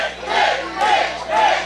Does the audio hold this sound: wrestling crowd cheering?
yes